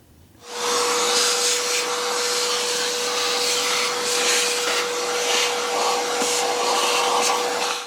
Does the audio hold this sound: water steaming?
no